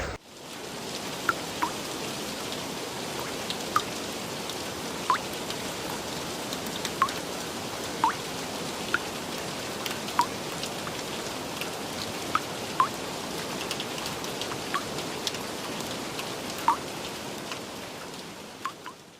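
Steady rain hisses softly on a surface, with scattered heavier drops ticking out now and then across a long, even stretch.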